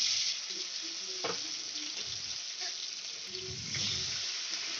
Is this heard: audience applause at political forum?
no